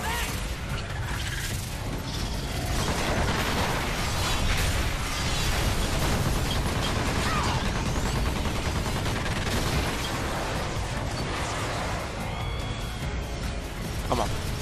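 Video game gunfire and explosions while shooting down a mothership in Earth Defense Force: Insect Armageddon, a dense, loud, continuous barrage of shots and blasts with no breaks, talk buried within.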